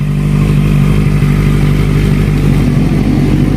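A 2019 Honda CB650R motorcycle idles steadily and loudly up close, with a constant mechanical engine drone and no talking.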